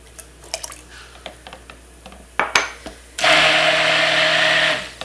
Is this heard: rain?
no